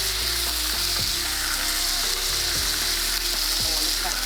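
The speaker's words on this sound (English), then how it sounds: "until you get it nice and brown, and you need to keep moving it so that it doesn't stew" Meat browns in a hot stir-fry pan with a loud, constant sizzle, while regular scraping strokes mark it being kept moving.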